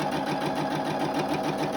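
A sewing machine stitches around the edge of a fabric face mask, a steady rapid mechanical whirring and ticking close by, continuous at moderate volume with no talk.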